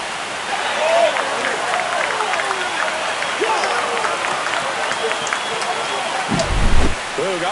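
A video-game baseball crowd in MLB The Show 25 roars and applauds after a home run in a Detroit Tigers versus Seattle Mariners game, a broad sustained cheer with a commentator talking over it.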